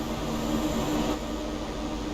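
ICE-1 intercity express train from Train Sim World 5, two Class 401 power cars, running on the Kassel–Würzburg high-speed line: a steady, close rumbling roar of wheels and motors with a faint tonal hum, continuous and unbroken.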